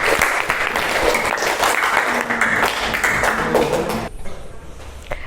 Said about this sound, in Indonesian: Beri tepuk tangan untuk Mbak Belinda.